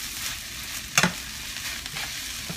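Fried rice with eggs sizzles in a pan, a steady hiss of frying with a sharp scrape of stirring about a second in, fairly close and with no talking.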